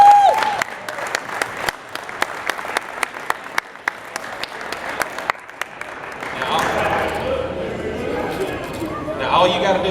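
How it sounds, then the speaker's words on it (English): Scattered claps from a small crowd at a youth outdoor hog-hunting charity event greet a returning trophy winner, sharp individual hand claps at first, then thinning into murmuring and a voice toward the end. "Everybody give him a round of applause."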